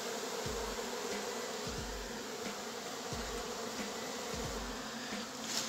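Wild bees buzz steadily and densely at close range while being coaxed up into a box during a hive capture, with a few soft low thumps sounding at regular intervals beneath the hum.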